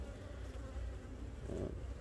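Honeybees buzzing steadily inside a colony being kept warm, a dense continuous drone close by, swelling briefly louder partway through, with no voices.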